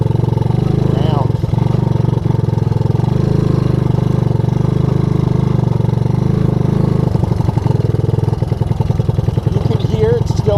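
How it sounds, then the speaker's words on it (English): A 1984 Honda ATC200S three-wheeler idles loudly and close, its engine running rich from a flooding carburetor, with a steady throb broken by irregular pops and stutters, and no speech over it. "You can hear it's still running rich, right? That pop, pop, pop."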